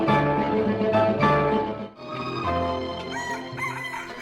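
A rooster crows loudly and close by in one long drawn-out cock-a-doodle-doo, followed by a second rising call, with a small pause between the two and no voices.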